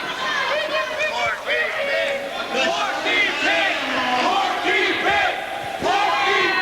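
Wrestling event crowd chanting and shouting in unison, a loud rhythmic mass of voices filling the arena throughout.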